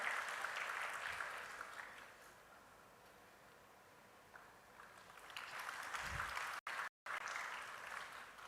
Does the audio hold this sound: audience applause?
yes